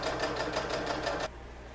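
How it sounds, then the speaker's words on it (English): A sewing machine running a straight stitch on cotton lycra fabric, a quick rhythmic whirr of needle strokes for about a second before stopping, close and clear. "Doing a straight stitch. You can do a zigzag or whatever works for you."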